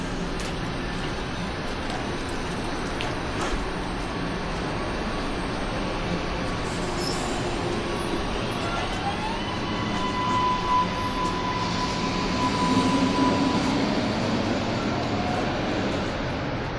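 A steady rumble of a train rolling past in Allston/Brighton, Boston in winter, with a continuous roar and faint squealing tones rising over it, constant and fairly close.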